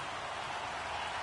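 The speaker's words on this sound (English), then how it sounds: "The rain set to continue as we are underway in the second half" Rain falls on a Madden football game as a steady, even hiss that holds without a break for the whole short stretch.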